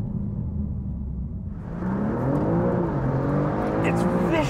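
A 2021 BMW M3 accelerates hard. A low engine rumble builds into a rising, revving tone that climbs steadily and is heard loud from close by.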